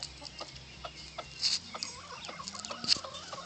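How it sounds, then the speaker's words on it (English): A single rooster clucks close by, giving short irregular clucks and a couple of louder squawks over quiet farmyard background. "Alright, this is my rooster."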